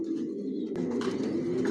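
Silver and pied racer pigeons coo steadily in a loft, a dense overlapping murmur of several birds close by with a brief sharp knock partway through.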